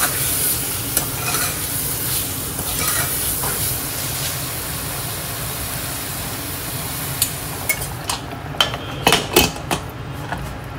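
A thin chicken curry cooking in a pot, loud steady bubbling and sizzling, then several clinks and scrapes of a utensil against the pot near the end.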